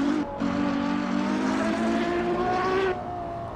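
A Ferrari 812 Superfast V12 in Assetto Corsa, a loud, close engine howl climbing through revs with brief drops at gear changes.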